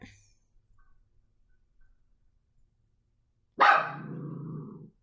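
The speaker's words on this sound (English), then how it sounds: "Sorry about my dog." A dog barks once loudly and close on a windy day, then lets out a drawn-out growling howl after several seconds of near silence.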